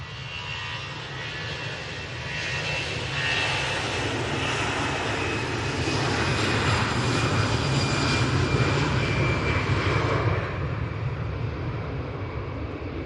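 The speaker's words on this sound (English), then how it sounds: "And this EasyJet A320 is off twin feeder." Jet engines of an EasyJet Airbus A320 at Manchester Airport roar steadily from a distance, a broad, sustained rumble and whine that swells slightly before easing, with no speech.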